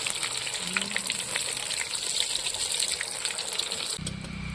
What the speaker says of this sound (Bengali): বেগুনিগুলো হয়ে গেছে দেখুন সুন্দর করে ভেজে নিয়েছি